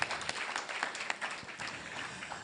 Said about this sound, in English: Please clap for the organizers one more time